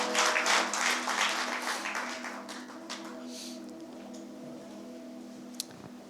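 A church congregation applauding, a loud burst of clapping at the start that quickly fades into scattered claps and quiet room tone.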